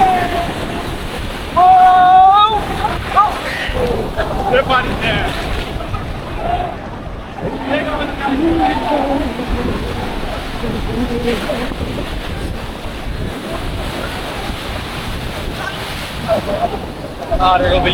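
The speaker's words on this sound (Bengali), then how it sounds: "বিশাল ঢেউ আছে" Large ocean waves roll and crash at Cox's Bazar beach under heavy wind buffeting on the microphone, a continuous loud surf wash with people talking and shouting over it.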